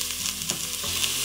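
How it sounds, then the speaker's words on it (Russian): Steady, hissing sizzle of onion frying in hot oil, with a brief stirring scrape midway. "Масло нагрелось, отправляем обжариваться лук."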